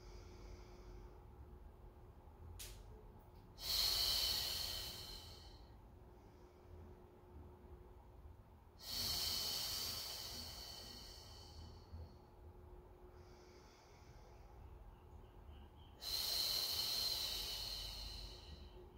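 Three long, loud breaths during a Pilates mat class, each a broad airy hiss lasting a couple of seconds and spaced several seconds apart, alone against a quiet room.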